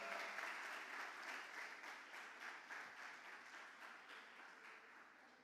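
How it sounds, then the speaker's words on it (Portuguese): A church congregation applauds a performance by two people, steady dense clapping that fades slightly over the few seconds, with no voices over it. "Vamos aplaudir pela performance dos dois."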